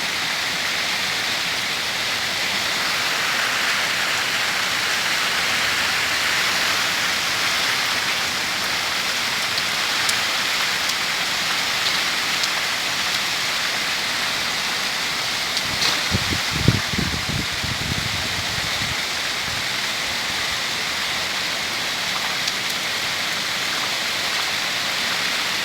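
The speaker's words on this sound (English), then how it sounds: "It's raining very heavily." Heavy rain pours steadily outside a bungalow under a cloudy sky, a dense, even hiss of water on surfaces running throughout, with a brief cluster of louder low thuds and splashes partway through.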